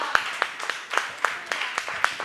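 A church congregation clapping hands in a steady rhythm, about three claps per second, close and fairly loud, with no talking over it.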